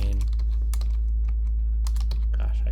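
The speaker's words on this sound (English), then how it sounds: "Gosh, I suck at typing." Rapid, uneven keystrokes clatter on a computer keyboard over a steady low hum, with bursts and short pauses while code is typed.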